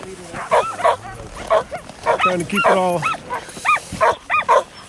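Sled dog team at a race checkpoint in cold weather, many dogs yipping, barking and whimpering in rapid overlapping bursts close by, with a person speaking briefly among them.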